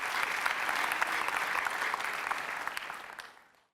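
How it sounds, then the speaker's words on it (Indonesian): A studio audience applauding Fajar Merah, youngest son of Wiji Tukul: dense, loud clapping that holds steady, then fades to silence. "Kita kasih tepuk tangan Fajar Merah."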